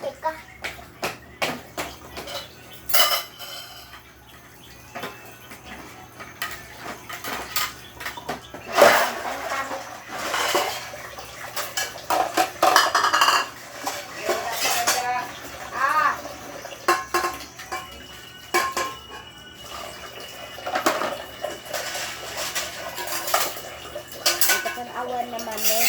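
Dishes, plates and cutlery clattering and clinking during washing up, with irregular bursts of sharp metallic and ceramic knocks over a quiet background; voices speak intermittently.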